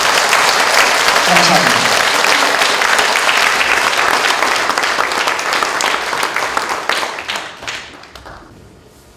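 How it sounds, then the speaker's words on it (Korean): A church congregation applauds loudly during a worship service, the clapping dense and sustained before gradually thinning out and fading toward the end, with a voice speaking briefly over it. "우리 하나님께 한번 영광의 박수 한번 드리겠습니다."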